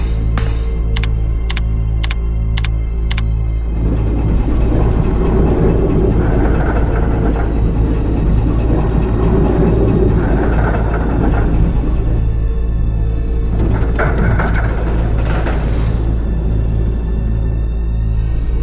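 A sky tram in the Resident Evil 2 game arrives with a steady low mechanical rumble and clattering rail movement. Bright clicks come at the start and chime-like tones come later, all in a fairly loud, continuous bed.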